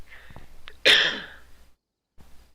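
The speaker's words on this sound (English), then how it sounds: "I got a cough, sorry." A single sharp cough, loud and close, with a short rasp trailing off before quiet.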